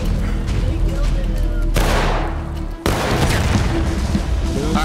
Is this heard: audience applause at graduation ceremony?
no